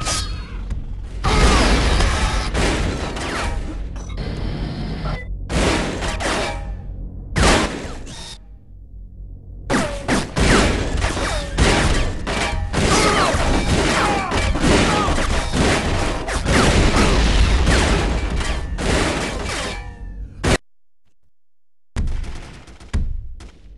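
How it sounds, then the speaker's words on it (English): Repeated bursts of weapon fire from the Scorpion missile launcher in the video game Turok 2 during an online multiplayer match, loud blasts and crashes in dense clusters, with short silent gaps between volleys. "Scorpion missile launcher."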